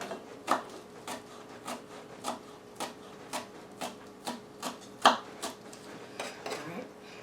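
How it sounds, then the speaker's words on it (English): A knife chops a scallion into tiny slices on a board, producing a steady series of crisp, evenly spaced taps at close range, fairly quiet throughout. "I'm going to cut up a scallion into really tiny slices"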